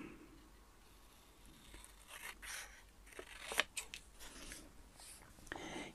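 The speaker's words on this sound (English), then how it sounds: "I think I'll just trim that off" Scissors trimming the edge of a vintage paper label: close, quiet snips mixed with rustling paper and faint murmured background.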